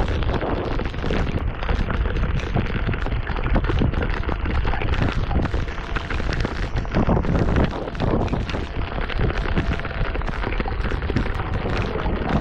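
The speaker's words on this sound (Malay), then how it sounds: "Angin pun padu." Strong wind at sea buffets the microphone during a kayak fishing trip in stormy conditions, a dense, loud, continuous roar and rumble with gusting surges and water noise, with no talking.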